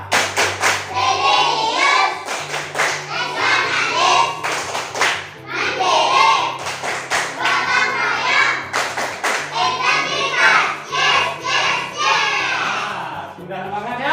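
A group of children in a classroom clap in a quick patterned rhythm, sharp bursts of claps with brief pauses between sequences, loud and close.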